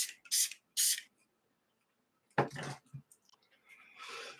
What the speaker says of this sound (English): So spritz that up with another spritz so I can wash into it.